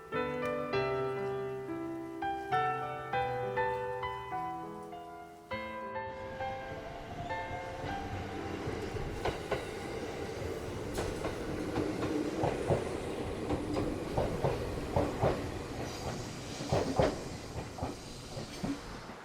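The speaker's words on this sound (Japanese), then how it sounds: "信濃大町駅を出てしばらくすると、列車は仁科山湖を通過します。" An Oito Line train runs along the tracks near Shinano-Ōmachi past mountain lakes, a steady rolling rumble with clickety-clack joints and rattling carriages, a chime or tone sounding in the first seconds.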